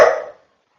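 A single short, sharp bark from a pet female dog in a home, loud and close, cutting off quickly into silence.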